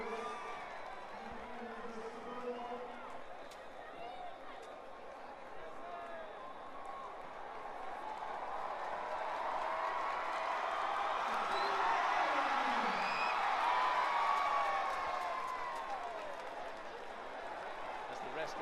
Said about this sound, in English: the crowd are really enjoying this one and getting behind all of these athletes